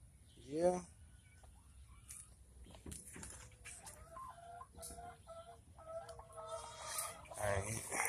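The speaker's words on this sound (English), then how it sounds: "Now I gotta feed my chickens." Backyard farm chickens cluck and a rooster calls near the start, with scattered bird sounds and a person talking faintly through the rest.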